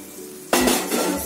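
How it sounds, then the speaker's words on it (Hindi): Warm sugar syrup poured into hot roasted gram flour in a pan, starting with a sudden loud sizzling burst midway after near quiet, close by. "अभी इसमें ये हम चाशनी डाल देते हैं"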